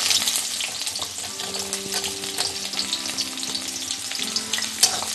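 Onion and ginger frying in a pan for upma, a dense, loud, continuous sizzle with bursts of crackling and occasional stirring scrapes close by.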